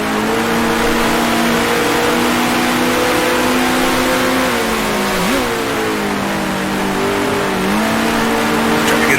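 Vintage 1966 Formula One car engine in Grand Prix Legends, droning loudly and steadily, with pitch dipping and climbing as it downshifts through gears mid-race on the Syracuse circuit.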